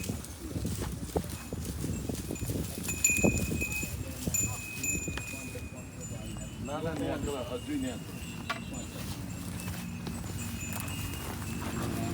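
Hooves clopping as cows walk past at a temple, an irregular clatter of steps nearby, with voices speaking intermittently over it.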